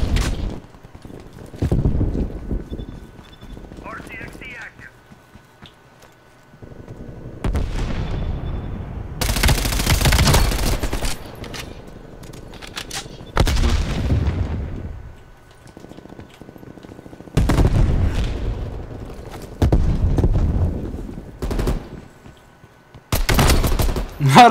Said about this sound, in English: these artillery strikes are so annoying